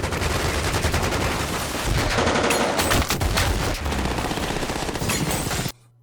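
Sustained automatic gunfire from a Triad gang's assault on a house in an action film, loud and dense rapid bursts with heavy low booms, cutting off abruptly near the end.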